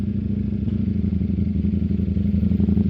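Ducati Streetfighter G7 motorcycle engine droning steadily at close range while riding, a continuous low rumble with some clatter and rattle throughout, no talk.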